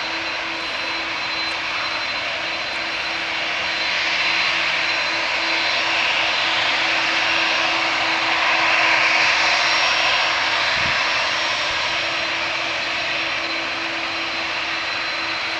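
Aircraft engines roar steadily at Manchester Airport's runway, a broad continuous rumble heard from a distance that swells slightly midway as a plane lines up, with no talk over it.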